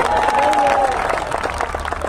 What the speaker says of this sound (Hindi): तालियां कमजोर रह गई आपकी